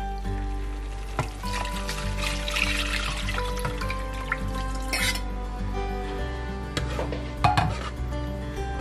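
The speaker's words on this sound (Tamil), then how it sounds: "இப்ப நம்ம கலந்து வச்சிருக்கிற புளி தண்ணிய வந்து இதுல ஊத்திக்கலாம்" Tamarind water poured into a pan for bachelor's rasam, a steady liquid splash and trickle against the metal, with occasional clinks of utensils and a low kitchen hum, close and moderately loud, no talking.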